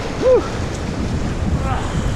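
Big whitewater waves on a paddling run through a river wave train, a steady rushing wash with wind buffeting the microphone and a brief shout near the start.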